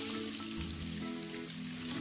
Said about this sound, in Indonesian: Di dalam periuk yang sama, kita tambah minyak sapi dan goreng udang yang diperap tadi.